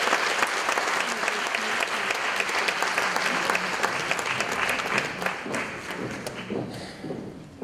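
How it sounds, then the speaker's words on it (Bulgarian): Sustained applause from an audience at an opening ceremony, honoring singers who performed "Memory" from Cats and "Love for Sale". Dense clapping stays loud and steady throughout and thins slightly toward the end, with no talk over it. "аплодисменти за Грета Станева, която изпълни песента Memory от мюзикъла Котките"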